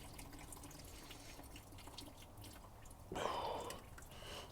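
Coolant drips and then gushes from a car engine into a bucket placed underneath, soft faint drips giving way to a louder splashing pour partway through.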